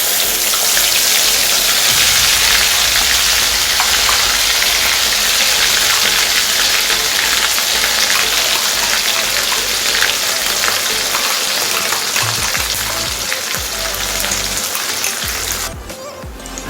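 Ginger, onion, garlic and spice paste sizzles loudly and steadily in a hot pan, a dense continuous frying hiss that eases slightly near the end.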